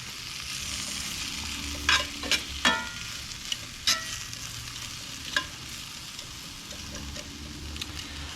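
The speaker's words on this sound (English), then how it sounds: "I'm gonna use again the tongs to kind of mix some of these around." Fries sizzle in a Gozney Dome oven as tongs stir them, a steady frying hiss broken by several sharp metallic clinks and scrapes, close and moderately loud with no talking.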